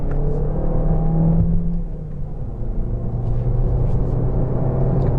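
A 2019 Toyota Corolla Hatchback XSE with a manual gearbox, heard from inside: a loud engine drone dips as it shifts down, then rises steadily as it accelerates, with road rumble underneath.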